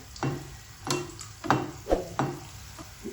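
Hot oil spooned over gulab jamun frying in a pan on medium flame sizzles in five or six short, splashy bursts, each swelling then fading, with quiet bubbling between.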